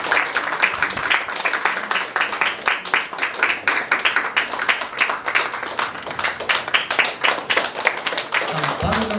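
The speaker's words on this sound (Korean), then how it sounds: "박수 한번 부탁드리겠습니다" Congregation applauding at a pastor's retirement thanksgiving service in a Korean church, steady dense clapping filling the hall for several seconds before a voice resumes at the end.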